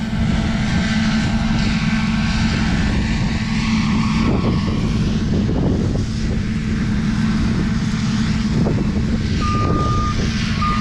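Combine harvesters at work in a rye field, a loud steady engine roar and low machinery drone running throughout, with a faint intermittent beep near the end and no talking.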